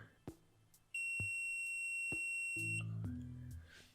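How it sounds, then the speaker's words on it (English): An electronic stud finder sliding along a wall gives one steady high-pitched beep about two seconds long as it reaches the center of a stud, between soft taps and handling noises. "this one will beep when it's at the center of a stud."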